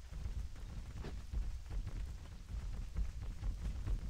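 Steady rain in Tol Barad, World of Warcraft, makes a continuous low rushing patter with soft rumbling underneath, heard evenly and alone throughout.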